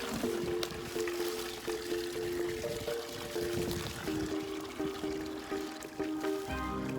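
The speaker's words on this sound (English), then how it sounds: "We're gonna fill this bucket up with water." Water pours into a bucket of fertilizer and humic acid mix in a desert garden, a continuous close splashing fill with a few knocks and shifts in pitch as the level rises.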